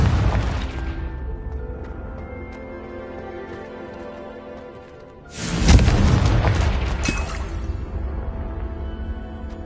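A Confringo spell detonates in Hogwarts Legacy on PS5, a loud booming blast that erupts midway through after a steady low game ambience, its rumbling decay lingering to the end.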